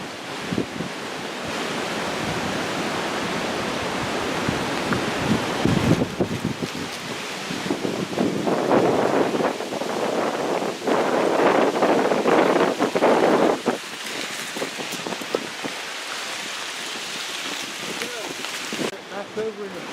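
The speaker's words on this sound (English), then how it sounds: "You cringe every time you hear the wind building." Strong gusting wind from Hurricane Irma roars and rises in surges in the Smoky Mountains, with thrashing, rustling noise buffeting the microphone throughout, building louder toward the middle.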